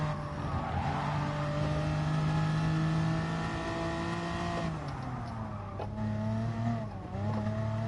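Race car engine held at full throttle in Gran Turismo Sport, a loud steady drone whose pitch climbs, then drops and shifts with gear changes near the end, alone with no talk.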